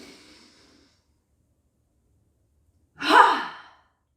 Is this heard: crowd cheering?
no